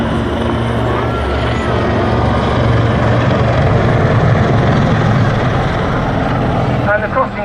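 A Black Cats display team helicopter pulls into a cyclic climb, its rotor and turbine roaring loud and steady throughout with a continuous thrumming drone.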